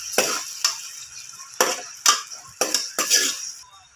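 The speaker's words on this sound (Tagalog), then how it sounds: "lagay na natin yung tomato sauce" Del Monte tomato sauce stirred into a pan of sardines, a spoon scraping and clinking in quick repeated strokes over a soft sizzle, close and fairly loud, no voices.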